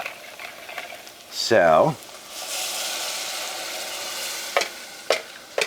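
Broth being stirred into sausage cornbread stuffing makes a wet sloshing and sizzling sound, with a brief voice and a few clinks of the utensil near the end.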